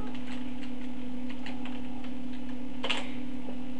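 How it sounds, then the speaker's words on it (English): Computer keyboard keys tapped while entering chart data in PowerPoint 2007, a run of light, quick clicks with a brief louder clatter near the end, heard alone over a steady low hum. "Type in your data."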